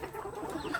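Bantam chickens clucking softly nearby, a few short murmured clucks in a quick irregular patter, faint and close with no voices.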